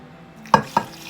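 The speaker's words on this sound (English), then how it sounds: "and you just stir it." A spoon stirs rice with water and butter in a pot, giving two or three quick scraping strokes up close.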